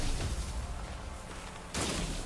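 Gunfire in the sci-fi action game Scars Above, a noisy burst of booming shots with a sharp loud blast near the end, heard over constant game ambience.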